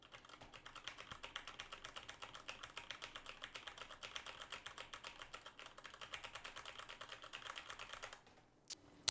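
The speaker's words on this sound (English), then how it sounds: "And again, the keyboard test." Rapid, continuous keystrokes clatter on a SteelSeries Apex 7 TKL Ghost mechanical keyboard, fairly quiet and close, running for about eight seconds before stopping with a final thump.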